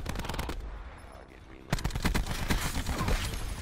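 Rapid automatic gunfire in a first-person shooter, a quieter stretch then dense bursts of shots resuming close and loud, with game effects behind.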